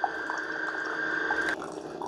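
An Amazon Basics standard K-Cup coffee maker brews, hot water trickling and dripping steadily into a cup over a faint pump whine, soft and close.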